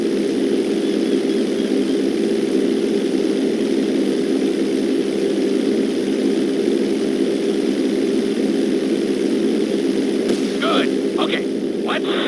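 A video-game airplane engine drones in flight, a steady loud propeller hum holding evenly throughout, with a few brief higher clicks near the end.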